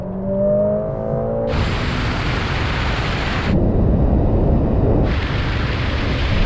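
Sports cars in a rolling drag race, among them an Audi RS3, AMG A45, BMW M2, Porsche Cayman GTS and VW Golf R, kick down and accelerate hard: a loud roaring surge of engine and wind noise, pausing briefly before a second rush.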